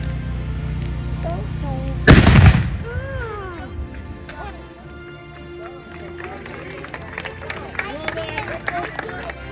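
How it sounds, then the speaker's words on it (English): A Revolutionary War artillery piece fires once in an outdoor demonstration, a single loud, sharp blast followed by a rumbling decay, with a crowd murmuring and chattering around it afterward. "During the American Revolution, could fire an artillery piece 10 times a minute."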